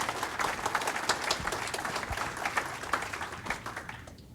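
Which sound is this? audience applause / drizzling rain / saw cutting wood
audience applause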